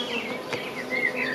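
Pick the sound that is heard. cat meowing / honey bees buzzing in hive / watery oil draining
honey bees buzzing in hive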